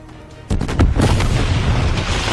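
Tank gunfire in the video game Left Alive sounds as a loud, deep boom half a second in, followed by a heavy blast and a rumbling roar that stays loud to the end.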